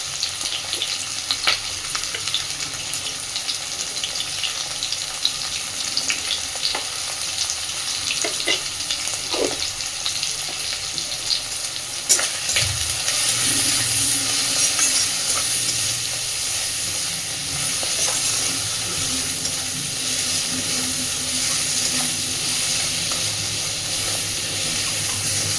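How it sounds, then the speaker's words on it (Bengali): Onion and prawns frying together in a pan, a close, steady sizzle with occasional spatula scrapes and a brief louder burst midway, continuous and without talk. "পেঁয়াজ, চিংড়ি মাছ সব খুব সুন্দর করে ভেজে নিয়েছি।"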